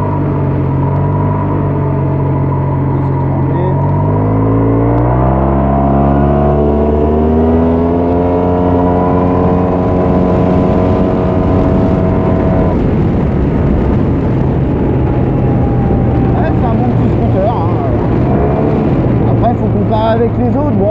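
A Yamaha TMAX 530 maxi-scooter accelerates on the road, its engine note climbing steadily in pitch over several seconds, then easing and settling, loud and continuous with wind rush underneath.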